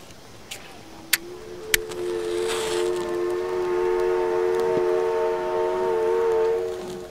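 A train pulls out of a station platform: a few sharp clanks open, then a sustained whistle-like tonal hum rises and holds steadily as it moves off.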